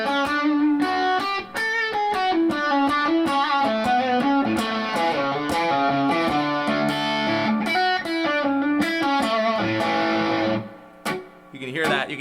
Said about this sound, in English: You can hear that slapback.